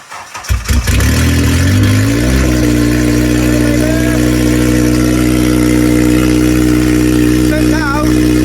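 A Honda K-series engine swapped into a car, fitted with a new exhaust manifold, cranks and fires up in a driveway, settling into a loud, steady idle with a slight rise in revs.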